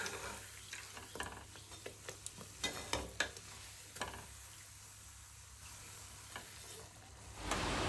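Mangalore buns frying in hot oil give a faint, steady sizzle, broken by a run of light clicks and taps from a utensil turning them, then a brief louder swell near the end.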